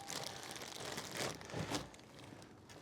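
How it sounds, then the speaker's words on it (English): A plastic bag of freeze-dried raw dog food being cut open, with quiet crinkling and a few sharp crunchy tearing rustles up close. "I'm going to cut this thing open"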